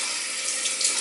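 Cold water runs steadily from a kitchen tap to rinse raw salmon, a loud, even hiss and splash heard alone for about a second.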